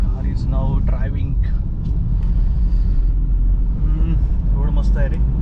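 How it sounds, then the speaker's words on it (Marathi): Continuous low engine rumble and tyre noise of a car driving along a smooth road near Neral toward Matheran, heard from inside, with people talking over the drone. "car is now driving"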